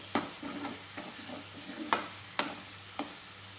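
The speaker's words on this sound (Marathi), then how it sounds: "ह्याला पण छान तेल सुटूपर्यंत परतून घ्यायचं आहे" A paste of fresh coconut, sesame and ginger-garlic is sautéed in oil in a pan for egg masala. A spoon scrapes and stirs in repeated strokes with several sharper knocks against the pan, over a soft sizzle, and no one speaks.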